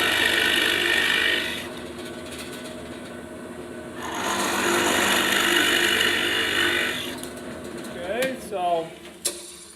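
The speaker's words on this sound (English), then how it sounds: "I might just slow the RPMs of the drill press down if you're drilling." A drill press whirs steadily, its pitch dipping as the bit bites into a walnut board, with a brief whining pause between passes and some squeaky scraping near the end.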